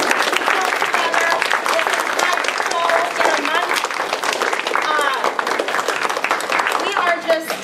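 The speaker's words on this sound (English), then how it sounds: "can we give one more round of applause for this phenomenal crew?" Loud, dense applause from a theatre audience for a stage crew after a short Hamlet performance, with cheers and whoops rising through the clapping.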